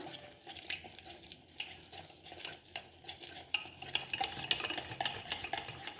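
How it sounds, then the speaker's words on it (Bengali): Jalebi batter is beaten vigorously by hand, a steady wet slapping and stirring close up that keeps its rhythm throughout. "পাঁচ দশ মিনিট ধরে বেশ ভালোভাবে ফাটিয়ে নিতে হবে ব্যাটারটা"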